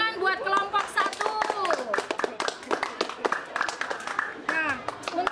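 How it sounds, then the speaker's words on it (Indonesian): Students in a classroom clap for a group, a brisk patter of many small hands mixed with excited children's voices and chatter throughout. "Berikan tepuk tangan buat kelompok 1."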